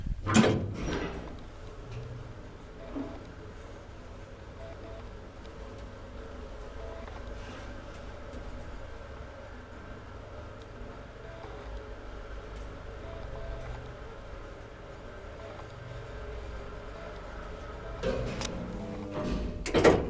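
An old Kone traction elevator rides in a Järvenpää apartment building: mechanical clunks of doors or gear at the start and again at the end, with a quiet, steady low hum of travel in between.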